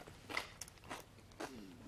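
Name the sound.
crunchy young radish kimchi being chewed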